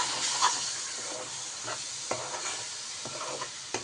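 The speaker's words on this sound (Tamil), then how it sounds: "மாம்பழத்தை எல்லாத்தையும் ஊற்றிட்டு நல்லா மிக்ஸ் பண்ணி எடுத்துக்கலாம்" Mashed mango mixture for mango laddu is stirred in a pan, with soft scraping and faint sizzling hiss, occasional light utensil taps against the pan, steady and fairly quiet throughout.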